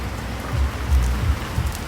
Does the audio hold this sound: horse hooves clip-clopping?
no